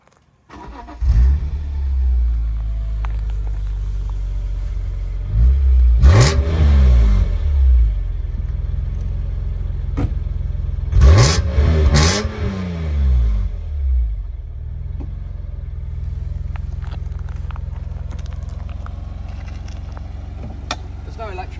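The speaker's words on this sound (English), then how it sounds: "We'll just start the car and we'll have a quick look at the exhaust pipes and a listen to the engine." A BMW E46 M3 coupe engine cranks and catches, settles into a deep idle, then is revved sharply twice in quick bursts before dropping back to a steady rumbling idle, loud and close to the exhaust.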